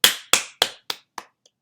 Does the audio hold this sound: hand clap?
yes